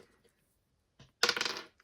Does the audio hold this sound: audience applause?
no